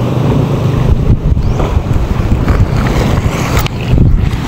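Strong ocean waves at Galas Port surge and churn in a loud, continuous roar, heavily buffeted by wind rumbling across the microphone.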